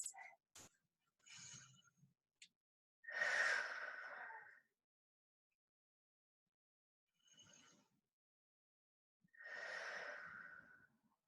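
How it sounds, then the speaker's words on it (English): Deep breaths during a kneeling exercise class, slow audible inhales and exhales in a quiet room, two longer breaths standing out among a few softer ones, with no talking. "2 deep breaths."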